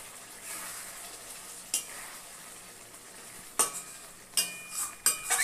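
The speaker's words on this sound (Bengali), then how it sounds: "আমরা তো কালো জিরে ফোড়ন দিয়েছি" Black cumin seeds tempering in hot oil for a Bengali home-cooked dish, with a soft steady sizzle broken by a few sharp scrapes and clinks of a spoon stirring against the pan, no voices.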